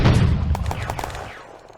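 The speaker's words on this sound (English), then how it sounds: "The Soviet 45mm anti-tank gun is still firing despite heavy casualties." A Soviet 45mm anti-tank gun firing in the Eastern Front wargame Firefight Ost Front, a single loud close boom with a short rattling echo that fades over about a second.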